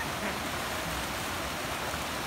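A village stream flows with a steady, even rush of water that fills the scene at moderate level, with no talk over it.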